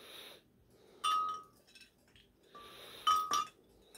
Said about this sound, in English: So after that, we put ice cubes.